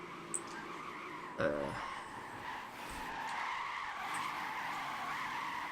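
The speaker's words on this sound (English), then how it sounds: "you can't hear it over the tires screeching in the background" A sustained, wavering squeal of car tires skidding while drifting, continuing at length with the engine mostly buried beneath it, plus a brief thump near the start.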